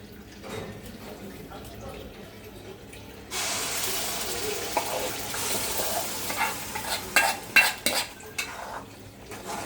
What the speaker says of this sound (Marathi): आपण वाटण छान भाजून घेऊयात